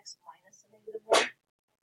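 A single loud sneeze bursts out near the end, after a few soft murmurs and rustles in a quiet algebra classroom.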